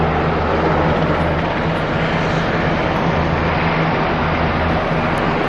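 Aeroplanes drone overhead outdoors, a loud continuous roar of aircraft engines that holds steady and fills the whole stretch without a break.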